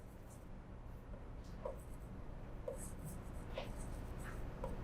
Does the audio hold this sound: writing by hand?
yes